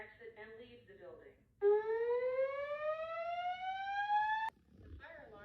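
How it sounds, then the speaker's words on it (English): A building fire alarm sounds alone as a loud, steady rising electronic tone for about three seconds, cutting off abruptly, with a recorded evacuation voice announcement heard before and after it. "The fire alarm has been activated in the building."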